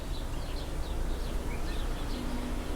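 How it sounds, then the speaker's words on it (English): Birds singing in a quiet village surrounded by palm trees, with several short chirps and calls repeating over a soft ambient background, fairly faint and without talk. "You can hear lots of birds, and it's a relaxing place"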